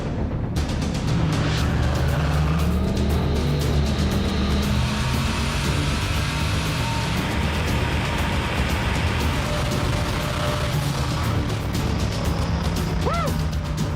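A loud, continuous engine roar from a twin-engine Impala drag car accelerating down the track, with steady noise throughout and faint squeaks near the end.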